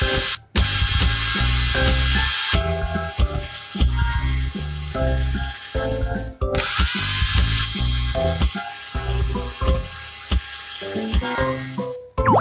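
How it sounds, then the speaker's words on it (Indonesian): A dental drill in a BabyBus cartoon game bores into a rabbit's decayed tooth, giving loud, continuous whirring and buzzing in repeated bursts broken by short gaps. "Bor lubang hitam terlebih dulu."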